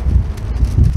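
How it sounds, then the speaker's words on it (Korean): Strong wind blowing outdoors on a street, buffeting the microphone in a steady, loud rumbling rush for about a second. "바람 너무 많이 분다"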